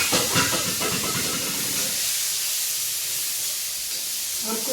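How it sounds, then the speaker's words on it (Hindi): Garam masala, cumin and asafoetida frying in hot oil in a home kitchen: a loud broad hiss and sizzle with a burst of crackling at the start that settles into a steady, softer hiss. "थोड़ा सा गरम मसाला, और हल्का सा जीरा और हींग डालकर इसे फ्राई कर लूँगी"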